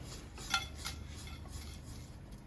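Roasted coconut beef for a Kerala beef peralan being moved from a pot into another vessel, with soft scraping and light clinks of a metal spoon against the pan, a few sharper taps standing out early, all fairly quiet with no talk.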